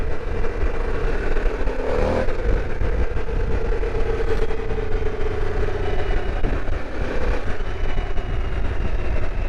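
A 2022 Harley-Davidson motorcycle under way, its engine a loud continuous rumble heard from the rider's position with wind noise, the pitch rising briefly near the start.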